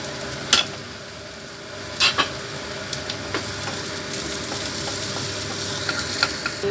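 Shallots and garlic sauté in a hot pan, giving a steady close sizzle broken by a few sharp stirring clacks and scrapes of a utensil against the pan.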